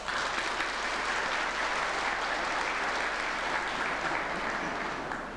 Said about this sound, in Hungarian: kérjék egy tapsot a számukra